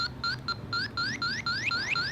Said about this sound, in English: That's a normal beep. When it beeps fast, it means there's a refrigerant leak.